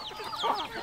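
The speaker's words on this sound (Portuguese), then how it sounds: "Aí o galo. Aí é o galo aí de frente." A farm rooster clucks close by in a short, clear burst, heard alone with no talking.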